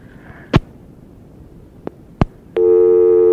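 A telephone line during a phone interview goes to a busy signal: after a few sharp clicks, a loud, steady electronic tone sounds close and alone.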